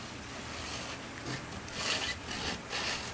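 A cable being run back and forth vigorously in a Triumph TR4A windshield wiper assembly gives a steady, close rasping scrape that rises and falls in strokes, with no talking.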